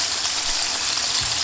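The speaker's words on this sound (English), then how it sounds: "Now straight away you want to start frying that chicken." Close-up, loud, continuous sizzling and crackling of chicken tenders frying in hot oil, a dense bright hiss throughout.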